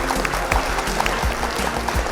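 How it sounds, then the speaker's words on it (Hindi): Audience applause at a college quiz competition, a steady patter of many hands at moderate loudness with no talk over it. "तालियां हो जाए इनके लिए"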